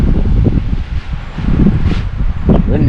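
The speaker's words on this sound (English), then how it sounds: "It's windy out here today." Gusty wind blows outdoors in a sandy yard, buffeting the microphone in loud, uneven low rushes that rise and fall throughout.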